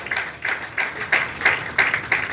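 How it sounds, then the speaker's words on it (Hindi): An audience applauding, a burst of rhythmic clapping from a crowd, loud and close in short regular waves. "एक बार जोरदार तालियां"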